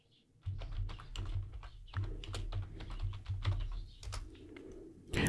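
Someone types a terminal command on a computer keyboard, a quick run of close, light key clicks in a steady burst over a low background hum.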